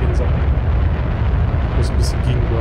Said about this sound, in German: Oh, gleich explodieren Sachen.